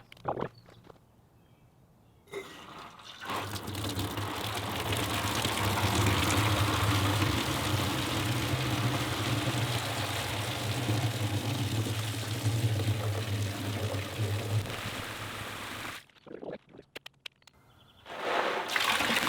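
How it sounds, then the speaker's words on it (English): A home fire sprinkler sprays water indoors in a steady broadband hiss for most of the clip, starting abruptly after a quiet moment and cutting off near the end, close by. "I don't want to spray all that water all over the house"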